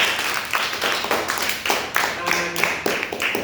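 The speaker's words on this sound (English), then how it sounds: "Give them a clap, give Elijah a clap." Uneven clapping from a small group of children's hands, steady and close, with a few voices mixed in underneath.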